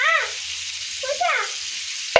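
Onions sizzle and fry in a pan with green chillies, turmeric and salt for egg burji, a steady close crackle with a brief voice-like sound early on and a sharp knock at the very end.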